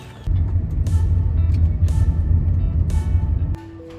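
Interior of a taxi moving through Phuket, with a steady low engine and road rumble that starts abruptly, runs for a few seconds with faint higher rattles, then drops off to a quieter hum.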